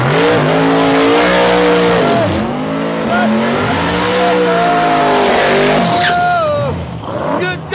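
A 1969 big-block Camaro and a twin-turbo Mustang drag racing, loud engines revving and shifting through repeated rising pitch sweeps with tire noise, heard close and continuous with commentary voices mixed in.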